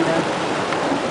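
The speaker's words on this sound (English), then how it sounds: "I love the rain. Hitting on the water." Rain pours onto open water at San Luis Pass county park, a steady, close, loud hiss of countless drops with no break.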